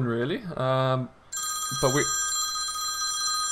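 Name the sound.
phone ringing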